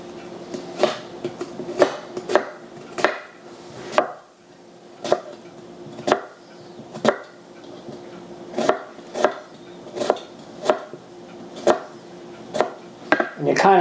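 A kitchen knife chops an onion on a cutting board, cutting along the onion's veins, giving a steady run of sharp, close knocks roughly every half to one second for the whole stretch, with no talking.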